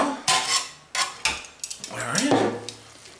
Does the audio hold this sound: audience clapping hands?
no